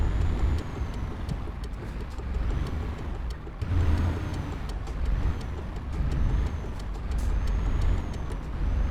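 Simulated truck driving in Euro Truck Simulator 2: a steady engine drone with road rumble holds throughout, with a brief dip near the middle, and no voices.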